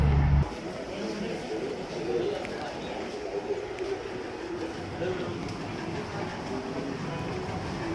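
A train rumbles past at moderate distance in a steady, broad roar with faint rhythmic clatter, while a person speaks over it.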